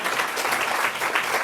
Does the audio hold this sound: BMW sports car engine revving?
no